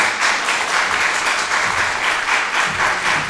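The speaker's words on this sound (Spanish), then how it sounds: "Un aplauso para César" At a university panel on animals in armed conflict, the audience applauds the speaker César, steady clapping from a modest crowd with a slightly pulsing rhythm, close and moderately loud.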